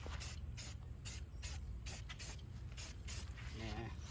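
Aerosol paint sprayed onto car brake calipers in light coats, a run of short hissing bursts of roughly half a second each, repeated in a steady rhythm, close and fairly quiet, with no talking.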